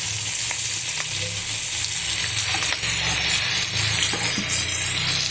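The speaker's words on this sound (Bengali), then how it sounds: "দেখুন দিয়ে দিচ্ছি চিংড়ি মাছ" Large prawns go into a hot frying pan, setting off a loud, steady, close sizzle with occasional small clicks and pops, no talking.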